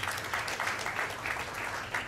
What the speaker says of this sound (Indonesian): Jadi mungkin tepuk tangan untuk Sumatera Utara ya.